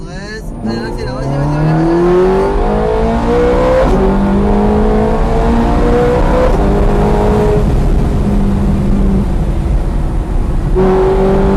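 Onboard a Ferrari F430 Scuderia on track, the engine climbs loudly through repeated upshifts, each pull rising in pitch before dropping, with an instructor talking over the cabin roar.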